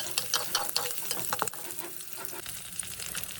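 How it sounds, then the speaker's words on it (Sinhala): Garlic frying in a pan with chili for Sri Lankan polos ambula, a steady close crackling sizzle broken by scraping stirring strokes, with no voices. "හොඳට කලවම් කරලා රන්වන් පැහැගෙන තිබුණට බැද ගන්න ඕනේ සුදු ලුණු ටික"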